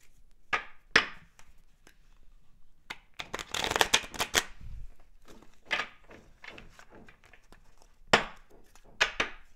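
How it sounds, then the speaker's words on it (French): Tarot cards being shuffled and reshuffled at close range, with several quick riffling bursts, soft slaps and taps in between, and no voice. "Allez, je vais les remélanger comme tout à l'heure."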